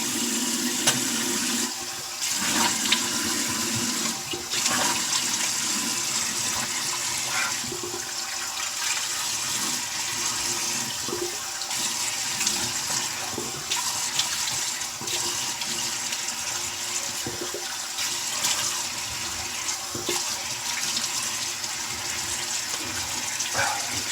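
Tap water runs steadily into a bathroom sink as a man washes up after a wet shave with a razor, a continuous close rushing hiss with small splashes throughout.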